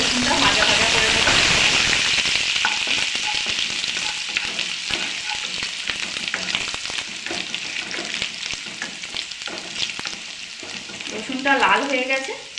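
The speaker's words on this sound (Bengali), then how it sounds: "দিয়ে রসুনটা ভাজা ভাজা করে নেব।" Chopped garlic frying in oil with a loud sizzle that gradually eases, punctuated by the scrape and clatter of a utensil stirring the pan, close by, with a brief voice near the end.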